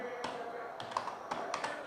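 Typing on a computer keyboard during a screencast, scattered soft key taps over a steady background hum, quiet and close.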